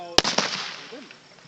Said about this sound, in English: What a firework. Just boomed for 1 second.